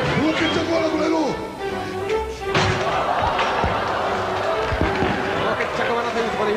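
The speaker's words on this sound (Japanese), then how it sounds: "椅子が飛びました" A chair hurled during a chaotic 1988 All Japan pro wrestling brawl, giving loud slams and thuds over a roaring arena crowd while an announcer talks excitedly throughout.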